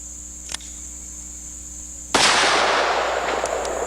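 A Bisley revolver fires a 45 Colt load with a 260 grain bullet at 1,450 feet per second: a single sharp, loud shot at about two seconds with a long ringing tail, preceded by a faint click, close and outdoors.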